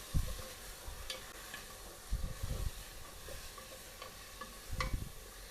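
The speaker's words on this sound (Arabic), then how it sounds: "الحين انزل بهارات واعطيها حمسة بعد" Spices for chicken kabsa stir and sizzle in a hot pan, a soft continuous frying hiss broken by several scraping strokes of a spoon at irregular intervals, close and without talk.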